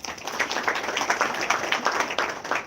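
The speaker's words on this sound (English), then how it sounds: "A round of applause," Applause from an audience at a panel discussion at Mumbai Gender Law 2023, dense steady clapping from a roomful of people, close and moderately loud.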